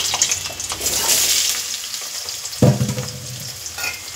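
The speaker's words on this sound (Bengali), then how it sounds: "ওলটাকেও ভালো করে ভেজে নেব।" Pieces of elephant foot yam, cut and washed, fry loudly in hot oil left over from frying potatoes. A steady close sizzle runs throughout, and a fresh burst of crackling comes near the end as the pieces are stirred.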